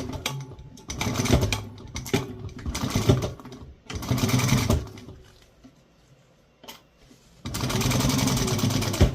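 A sewing machine stitches the seam of a water bottle bag in several bursts of rapid mechanical whirring, separated by short pauses and a faint click, close and clear with no talking.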